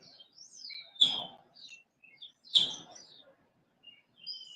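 Small birds chirp outdoors in the morning, two sharp close calls with softer tweets around them, and no talk over them.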